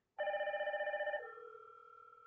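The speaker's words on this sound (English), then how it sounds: "Let us try to ring the system. Okay, the system is now ringing." A Hikvision DS indoor station rings with a loud, close electronic telephone-style bell, a rapid trilling burst for about a second that then drops to a steadier, softer tone.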